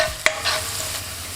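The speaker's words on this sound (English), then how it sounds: "For our spicy sauce, you want to saute some of this red chili." Red chili sautés in a hot pan, giving a soft steady sizzle with a sharp clink of a utensil early on and light stirring sounds, without any talking.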